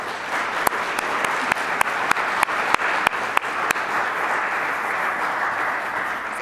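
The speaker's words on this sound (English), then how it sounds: "if we could just give a round of applause for the wonderful gift of motherhood" An audience at a choir concert applauds in honor of mothers: a steady, even wash of many hands clapping together, with a few sharper individual claps standing out at intervals, sustained throughout.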